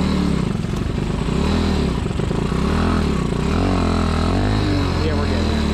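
A 190cc restomod Honda Trail 70 (CT70) motorcycle runs off-road, its engine a loud, continuous rasping drone that rises and falls as the throttle changes, with voices faintly mixed in.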